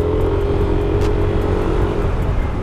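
A 2020 Yamaha Nmax scooter engine runs during a test ride, giving a steady, even drone with a faint tonal hum. It sounds close and constant, with no voices over it.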